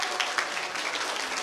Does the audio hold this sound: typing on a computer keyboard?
no